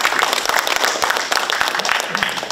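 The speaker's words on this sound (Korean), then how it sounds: "예, 감사합니다. 박수 한번 부탁드립니다." A crowd at a Korean community sports association's sponsorship night in Seattle applauds with a dense, steady wash of clapping that fills the whole stretch.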